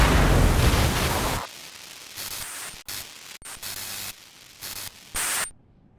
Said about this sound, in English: The last sound you hear is the sound of a coral rifle going off